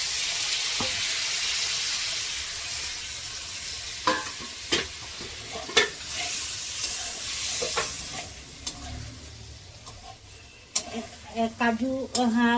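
Turmeric water poured into hot oil with pointed gourd frying in a pan, giving a steady broad sizzle with several sharp clinks and stirring knocks, loudening into crackling bursts near the end; no talk.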